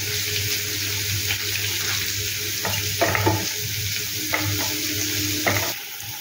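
Coconut powder frying with turmeric in a pan, an even close sizzle throughout with a few sharp scrapes and taps of stirring, no voices.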